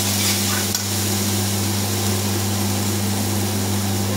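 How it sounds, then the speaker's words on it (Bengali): Ingredients for a katla fish curry are stirred and fried together in a pan, giving a constant close sizzle under a steady low hum, with one brief clank near the start and no talking. "এবারে সব জিনিসটাকে একসঙ্গে ভালো করে কষাতে হবে সুন্দর করে।"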